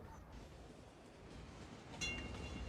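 A tram rolling along its tracks in Cities: Skylines, a soft, low continuous rumble with a brighter clatter near the end, faint and without talk.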